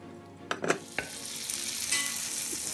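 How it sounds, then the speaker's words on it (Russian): Oil sizzling steadily in a covered pan frying a mushroom omelette, with a few clanks and knocks of a lid or utensil near the start, then a continuous soft crackle. "закрываем крышкой и жарим еще пару минут"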